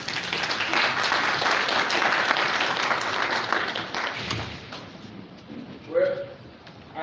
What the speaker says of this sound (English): I think the panelists deserve another round of applause